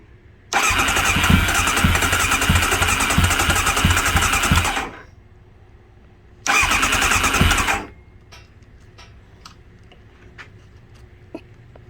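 A Kawasaki ZX9R motorcycle, being revived and fed from a small external fuel tank, fires up loudly and runs for about four seconds. It dies, then catches again for a shorter burst, and quiet follows with a few faint clicks.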